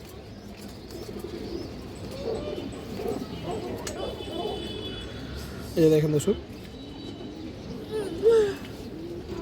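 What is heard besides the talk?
female silver pigeon cooing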